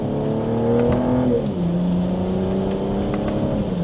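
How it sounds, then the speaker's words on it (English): A 2026 BMW M440i Gran Coupe in sport mode pulls a gentle acceleration in second gear, its engine a steady, fairly close drone that holds, dips briefly as it shifts, then climbs again. Piped-in exhaust sound is part of the mix, with no talking. "So with it in sport mode now, we'll put it into second gear. Here's a small acceleration."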